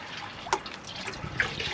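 Water runs steadily from a tap into a watering can bucket at a chicken coop, a soft, even rush with a few faint drips and clinks over it.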